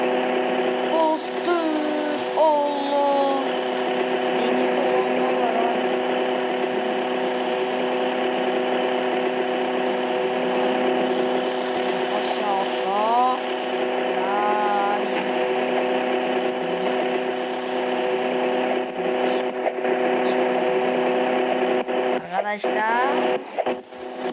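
A steady, droning video game motorcycle engine hum runs throughout, with rising revs at moments, while a voice talks over it in Turkish.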